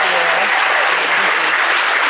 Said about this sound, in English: So let's give Ms. Stein a very big round of applause.